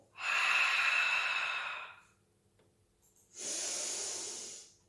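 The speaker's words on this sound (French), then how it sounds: "Je vais vous montrer avec la respiration." Two long, forceful breaths during a Pilates leg exercise, a hissing exhale through the mouth followed after a short pause by another airy breath, close and loud with no talking.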